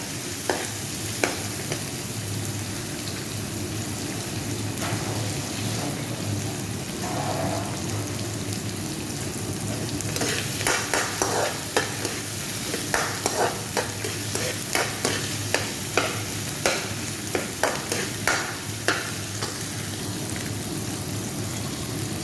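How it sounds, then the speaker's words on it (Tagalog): Tomatoes stir-fried in a pan for adobo sa gata with takway and dilis, giving a steady close sizzle with repeated spatula scrapes and clicks that grow busier in the second half, with no talking. "Ayan, likos-likos lang. Lutuin muna natin ang kamatis natin mga guys."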